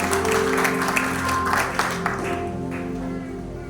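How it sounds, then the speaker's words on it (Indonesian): A church congregation at a GBI Rock Galang service applauds for a brother, a soft wash of clapping blended under sustained music that carries on after the clapping thins out. "Yang setuju beri tepuk tangan untuk saudara."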